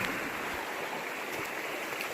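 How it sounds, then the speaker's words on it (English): The East Fork San Gabriel River flows steadily past in an overgrown outdoor spot, a constant rushing hiss of water heard alone at a moderate, even level throughout. "Gotta go take a peek at this beautiful river over here."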